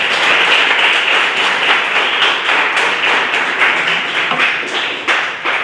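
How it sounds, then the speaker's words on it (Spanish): A church congregation at a Sunday service applauds steadily throughout, a dense continuous wash of many hands clapping with no voices on top. "damos aplausos al Rey que vive y permanece para siempre"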